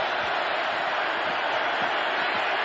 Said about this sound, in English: Crowd in full throat right now.